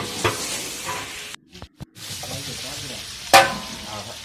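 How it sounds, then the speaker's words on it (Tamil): Ghee melting and sizzling in a large biryani pot on the stove, a steady frying hiss broken by a brief quiet gap and one sharp louder crackle near the end. "இப்போ நெய்யெல்லாம் உருக ஆரம்பிச்சுட்டு"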